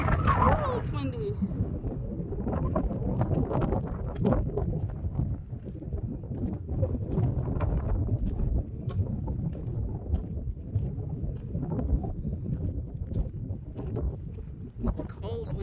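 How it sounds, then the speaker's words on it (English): Cold mountain wind buffets the microphone along a hiking trail, a steady low rumbling roar that fills the whole stretch with gusty swells and no break. "It's cold wind too. It's that mountain cold wind."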